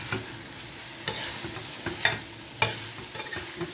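Chili peppers and spices stirred in a frying pot with a spoon, a steady sizzle of hot oil broken by several sharp scraping strokes, close and alone.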